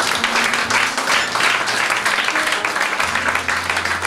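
A church congregation at a worship service applauds together for several seconds, making a dense, sustained wash of clapping with a low hum underneath.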